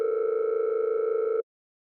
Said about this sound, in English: They picked up after 2 rings.